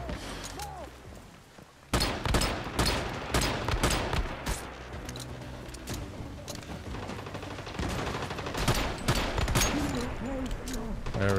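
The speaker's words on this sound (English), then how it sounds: "I'm gonna have to ask you guys to chillax with all the shooting" Gunfire in the video game Once Human, with dense, overlapping bursts of shots and rapid automatic fire that start abruptly after a brief quieter moment and continue loudly throughout.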